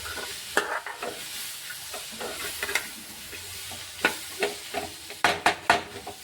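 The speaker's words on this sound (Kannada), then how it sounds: "ಇದನ್ನು ಇವಾಗ ಹುರ್ಕೊಂಡು ತೊಗೋತೀನಿ ನೀಟಾಗಿ, ಅಂದ್ರೆ ಫ್ರೈ ಮಾಡ್ಕೊಂಡು ತೊಗೋತೀನಿ ರೀ" Ingredients frying in a pan for paneer gravy are stirred with a utensil: soft sizzling underneath irregular scraping strokes that cluster into several sharp, close scrapes toward the end.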